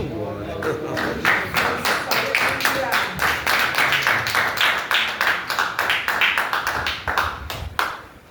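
A church congregation claps together at an evening service, sharp overlapping hand claps in a steady rhythmic stream for several seconds before stopping abruptly, with a few voices mixed in under the clapping.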